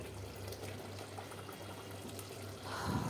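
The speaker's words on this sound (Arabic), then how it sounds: "ونزلنا بالميه المغليه، ميه مغليه علشان تخلي معاكي الرز مفلفل وحلو" Boiling water is poured into a pan of browned onions while cooking rice in a home kitchen. A steady, continuous rush of liquid swells louder near the end.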